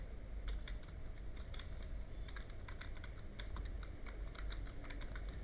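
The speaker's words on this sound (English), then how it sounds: "then I just type printf" Rapid clicking of a computer keyboard as a command is typed, irregular bursts of keystrokes close to the microphone over a steady low hum, with no talking.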